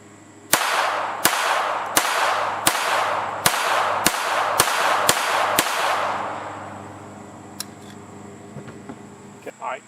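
Unsuppressed .22LR CCI standard velocity rounds crack off one after another, nine sharp loud reports at a quick, slightly uneven pace, each trailing into an outdoor echo, followed by quieter ambient noise.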